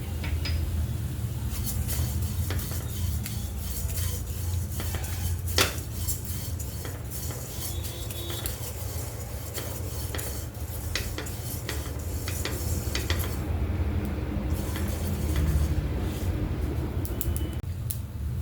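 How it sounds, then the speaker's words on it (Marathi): Sesame seeds dry-roasting in a pan for traditional khar vangi, a brinjal dish, with a spoon steadily scraping and clinking against the metal throughout, close and continuous, no talking. "त्यातच मी तिळ पण टाकून घेणार आहे तिळ पण भाजून घ्यायचे"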